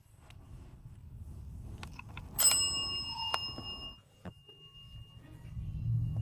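A single bright bell ding rings out and lingers, with a few soft knocks and a low rumble around it, inside an abandoned school in Hong Kong at night.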